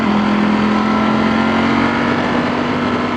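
A 2018 Ducati Panigale V4S ridden on the road, its engine holding a loud, steady high-pitched drone with rushing wind over the top and no talk.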